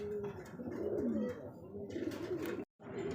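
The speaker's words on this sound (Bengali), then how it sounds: "বিন্দু দেখতে পাচ্ছি এখানে আরো এক জোড়া কবুতর" Pigeons cooing at a pigeon seller's loft, the soft repeated coos steady and close with low murmuring voices mixed in and a brief dropout near the end.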